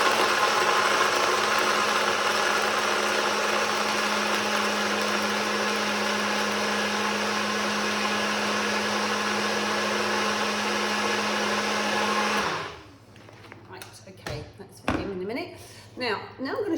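A juicer whizzes steadily and loudly with a constant motor whine for about twelve seconds while Sonny's juice is blended, then cuts off abruptly, leaving quiet clicks and handling sounds afterward.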